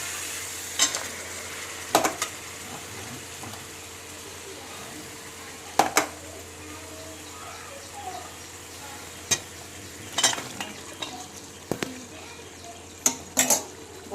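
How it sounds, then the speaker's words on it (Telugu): Masala fries in oil for a meat bones curry, with a soft continuous sizzle broken by occasional sharp clanks and scrapes of a spoon stirring against the pan, nearby and without voices. "మంచిగా కలిసేటట్టు తిప్పండి. ఒక 1 మినిట్ మంచిగా ఆయిల్లో మగ్గనివ్వండి."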